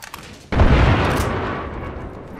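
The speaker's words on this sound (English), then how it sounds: "Grenade!" A grenade goes off in a video game firefight, a sudden loud close blast that keeps rumbling for a couple of seconds, with faint clicks before it.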